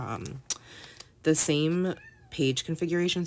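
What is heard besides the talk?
kitten meowing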